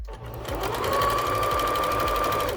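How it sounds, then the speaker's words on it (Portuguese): A sewing machine runs a straight seam along the edge of a fabric table napkin, its motor humming steadily and close for a couple of seconds with no talking over it. "Coloca na máquina aqui e passa a costura reta, ponta a ponta."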